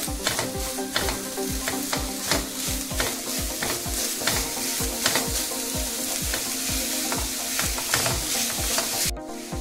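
Grated coconut filling with jaggery for ukadiche modak is stirred in a hot pan: a steady sizzle with rhythmic scraping strokes of the spoon against the pan, close and continuous, with no voices.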